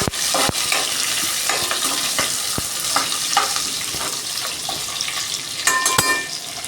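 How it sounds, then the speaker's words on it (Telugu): Onions and four green chilies frying in a pan are stirred, giving a constant loud sizzle broken by repeated spatula scrapes and clinks against the metal. "ఇవి మంచిగా కలబెడతాం."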